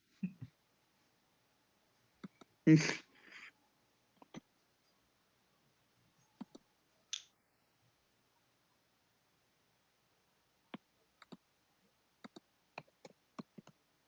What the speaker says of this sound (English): This is some real good mouse clicking.